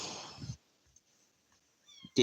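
A small kitten gives a couple of high, thin meows close by, separated by a quiet gap.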